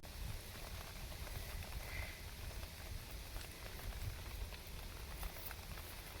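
Steady rain falls outdoors on rocky ground, a dense, even patter of drops that stays constant and close, with no voices over it.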